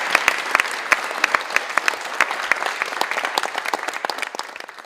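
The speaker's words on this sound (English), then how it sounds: "Can we just give Bishop Bertan a round of applause" An audience applauds for a bishop at a gathering on children suffering in the Congo over cobalt, with crisp, distinct handclaps from a modest crowd that ring out steadily and thin slightly as it tapers off.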